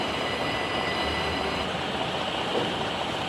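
Florida East Coast Railway freight train rolling on the Medley lead near Northwest 79th Avenue, a steady close rumble with rail noise and faint wheel squeal continuing throughout.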